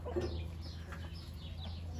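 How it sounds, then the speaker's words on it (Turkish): Turkeys in a farm poultry coop give a few faint gobbling and clucking calls over a low steady hum, quiet and somewhat distant. "Evet Hintler geliyor."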